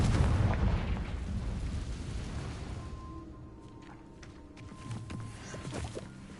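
A Confringo explosive spell in Hogwarts Legacy bursts with a heavy boom that rumbles and fades, followed by softer crackles and small pops, with no talking.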